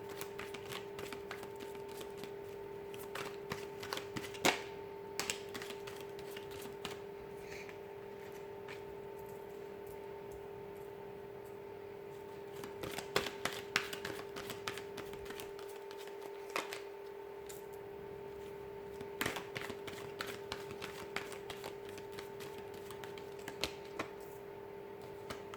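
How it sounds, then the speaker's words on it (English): Soft, quiet tarot card shuffling in a few short bursts of riffling and patter, set against a steady low hum with no talking. "give the cards a shuffle here"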